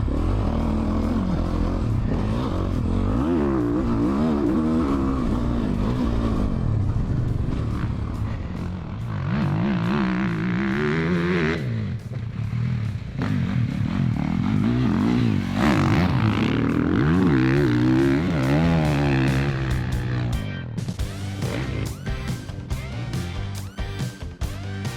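Two premium 450cc dirt bikes being ridden, a loud single-cylinder engine droning and revving continuously up close with rising and falling pitch and rattling clatter throughout.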